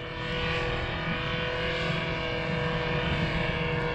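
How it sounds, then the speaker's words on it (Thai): A paramotor engine revs hard and steadily on a first flight, a loud, continuous droning roar with a strong harmonic whine that holds close and unbroken throughout. "เร่งเครื่องขึ้นไปอีกครับเร่งไปอีกครับน้องเร่งขึ้นไปอีก"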